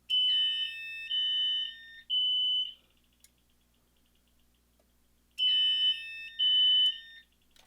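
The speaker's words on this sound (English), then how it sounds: "Now all 5 zones are reporting an alarm." Fire alarm system sounding during a zone test: loud, steady electronic tones in two bursts of long sustained pulses, with a quiet gap of a few seconds between them.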